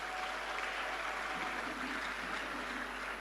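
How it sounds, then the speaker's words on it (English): Audience applause at a ceremony celebrating 60 years of the Ghana Cedi: steady, even clapping from a crowd, soft and somewhat distant, continuing through the whole stretch without talk. "I thought it deserved a round of applause."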